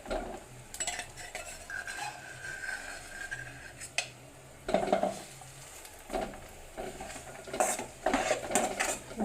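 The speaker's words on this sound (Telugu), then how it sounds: "మనం మిక్సీ పట్టుకున్న ఖర్జూరం పేస్ట్ని కూడా ఇందులో వేసుకుని వేడి చేసుకుందామండి." A spoon scrapes and stirs blended date paste heating in a pan, with a steady clatter of metal against cookware, bursts of scraping and a soft sizzle, all close and without talk.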